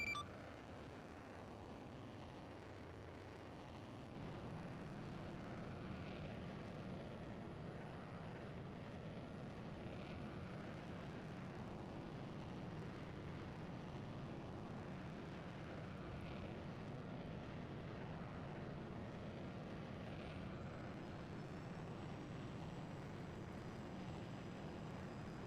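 An F/A-18 Hornet sits on a carrier catapult, its jet engine a steady, broad roar that holds loud and unbroken throughout, with no talk over it.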